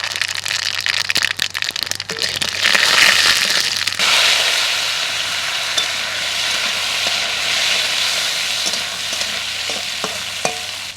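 Mustard seeds and dried chili sputter and crackle in hot mustard oil, a dense, steady sizzle with sharp pops that swells briefly, then settles into continuous close frying.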